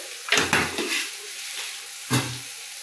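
Spiced raw banana kofta masala being sautéed in a pan, a soft frying hiss broken by a few loud stirring scrapes and knocks against the pan.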